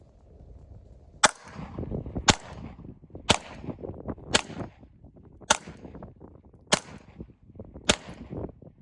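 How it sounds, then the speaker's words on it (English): Seven pistol shots from a Polish Radom Vis P35 fired at a paper target, sharp cracks spaced about a second apart, each standing out over low background rumble and handling noise. "I'm gonna put some shots on paper and see where they're grouped."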